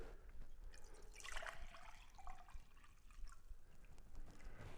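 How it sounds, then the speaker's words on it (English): A little silver solution for wet plate photography is poured back into its container. It makes a faint, soft trickle that comes and goes, with no talking. "So now what I'm going to do is pour a little bit back into here."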